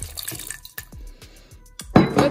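Water poured into a blender or container with cashews while making a nut milk in a home kitchen, with several short splashing drips and clinks followed by a louder pouring burst near the end, heard close with no talking.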